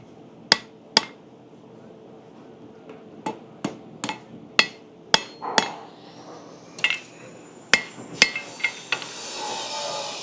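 A blacksmith strikes hot iron with a hammer while tapering the front of a forged hook latch, sharp ringing blows in an irregular rhythm, some in quick pairs, followed by a growing hiss of forge noise.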